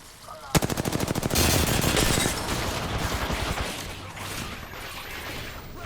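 Rapid automatic weapon fire in Apex Legends on the Olympus map, a loud burst of evenly spaced shots followed by a dense stretch of continued firing and impacts that gradually thins out.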